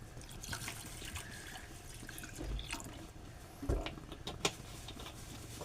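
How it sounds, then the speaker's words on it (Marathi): Water is poured into moong dal set to cook, a faint trickling pour with a few drips and small knocks, quiet and close, with no talking. "त्याच्यामध्ये मी आता पाणी टाकतो."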